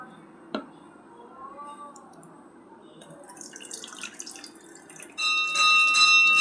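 Soaked red lentils being washed by hand in water, with soft drips and sloshing, then a louder burst of running tap water into the bowl near the end.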